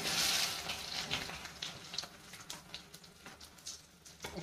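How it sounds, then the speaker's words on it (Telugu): Mustard seeds tossed into hot oil for a Telugu grated raw mango pickle, giving a close, bright sizzle that bursts loud at first, then settles into scattered crackles and pops. "ఇప్పుడు ఆవాలు వేసుకుంటాం నేను."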